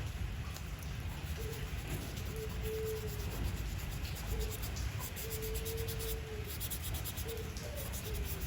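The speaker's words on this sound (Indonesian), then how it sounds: "jadi kita haluskan pakai amplas yang paling halus" Fine sandpaper rubs rust off a rear brake part on a Nissan Terrano during seal replacement, a steady, continuous rasping scrape at moderate volume.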